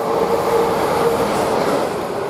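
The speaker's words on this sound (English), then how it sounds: "One of them West Coast railways, one of them sort of tour train stuff" An old West Coast Railways tour train rolls steadily through Grantham station with a continuous close rumble of wheels on rails and carriage noise, no voices over it.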